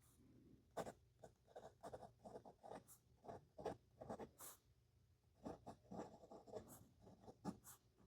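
A fountain pen with an extra fine nib writing on paper, faint close scratchy strokes in quick irregular bursts, heard alone without speech.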